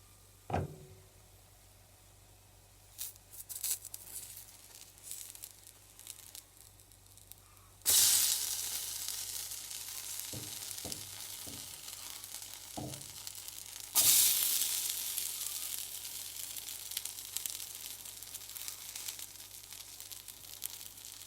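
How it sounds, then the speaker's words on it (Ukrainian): Steady sizzling of zucchini pancake batter frying in a hot pan, with a few soft clinks and scrapes; the hiss swells louder partway through and stays constant. "Поклала блинчики на сковорідку."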